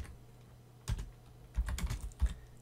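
Someone types a short terminal command on a computer keyboard under Ubuntu Linux, producing a few quiet separate bursts of keystroke clicks at an irregular pace against a faint background hum.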